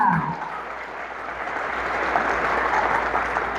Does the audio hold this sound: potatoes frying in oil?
no